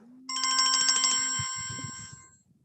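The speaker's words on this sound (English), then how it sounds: "Someone's phone went off anyway." A mobile phone ringtone goes off indoors, a bright repeating electronic melody that plays for about a second, then fades, followed by faint low rustling and background murmur.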